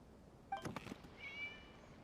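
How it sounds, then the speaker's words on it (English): A cat in a video game gives a short, faint meow, then a thin drawn-out tone fades in quietly behind it. "It was just a cat."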